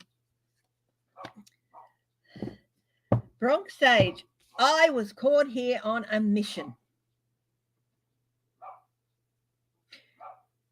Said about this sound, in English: He's barking at a cat or something.